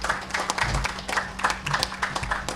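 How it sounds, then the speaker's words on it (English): Audience applause at a St. Kitts government event, a moderate crowd clapping in a quick, uneven patter, heard at a middle distance. "that, I believe, deserves a tremendous round of applause"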